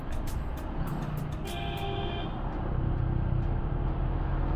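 A four-wheeled vehicle honks at a tricycle on a provincial road, a short horn toot cutting through steady traffic and engine rumble.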